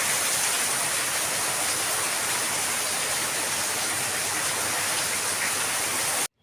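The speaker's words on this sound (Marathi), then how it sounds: "पाऊस चालू झाला आहे" Heavy rain falls in a constant, even hiss, loud and unbroken, then cuts off abruptly at the very end.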